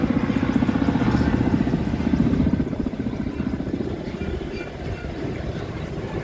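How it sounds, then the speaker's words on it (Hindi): A helicopter flying over AIIMS Gorakhpur toward the airport gives a loud, steady rotor thump and engine drone, slightly easing as it moves away, with no speech over it. "एक हेलीकॉप्टर का"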